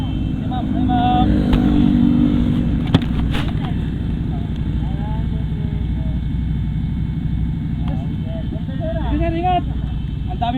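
Engines rumble steadily on a road trip toward Baguio as motorcycles pass, a loud continuous drone with a few revving swells while people talk over it.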